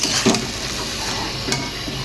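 Dried fish sizzles in a pan alongside young jackfruit, with a steady frying hiss broken by a couple of sharp stirring scrapes and clinks close by.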